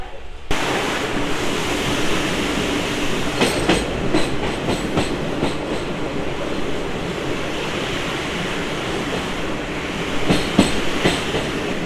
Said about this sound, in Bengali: ফারাক্কা ব্যারেজের ওপর দিয়ে এখন ট্রেন যাচ্ছে।